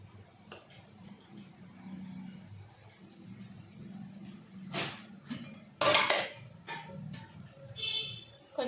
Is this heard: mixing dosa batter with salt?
yes